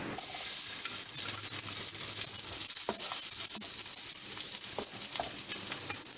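Capsicum, carrot, onion and cabbage sizzle and crackle loudly in a hot pan for chicken manchurian, a steady frying hiss with occasional stirring clatter, close up and without talk.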